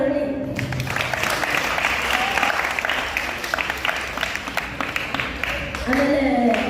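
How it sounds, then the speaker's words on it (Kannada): An audience at a children's Vedic training camp event in Davangere bursts into sustained applause, loud, dense clapping filling the room, with voices audible near the start and end. "ಅವರಿಗೆಲ್ಲರಿಗೂ ಒಂದು ಚಪ್ಪಾಳೆ ಬರಲಿ."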